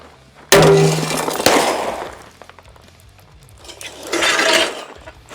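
Glass media poured into an oiled homemade tumbler on a pile of stones, shattering and scattering everywhere: a sudden loud crash of breaking glass, then tinkling fragments settling, followed by a second rattling burst.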